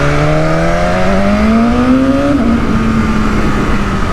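A BMW S1000RR sport motorcycle accelerates hard and close, its engine pitch climbing steadily through a gear, dropping at a shift, then pulling on with a loud, continuous whine.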